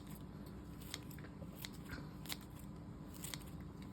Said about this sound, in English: I use scissors for parsley too